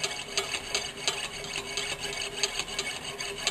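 A saw blade cuts through metal with a narrow kerf, giving a steady, rhythmic rasping scrape of repeated strokes at moderate level with no talk.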